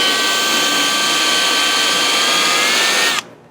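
A plastic fuel cell is scuffed with a power tool before plastic welding, a loud steady high-pitched whine that runs continuously and then cuts off abruptly near the end.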